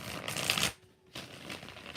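Tarot cards shuffled in quick bursts of riffling and sliding, loud and close, with a brief pause midway before the shuffling resumes.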